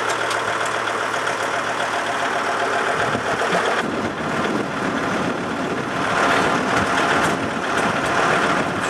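A tractor engine runs steadily with the power take-off engaged, a continuous loud mechanical drone and rattle that shifts slightly in tone partway through, close to the listener with no talking.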